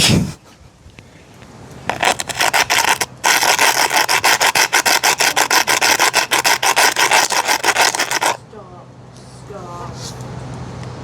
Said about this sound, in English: Guys, ASMR, scratching the lens of my iPhone.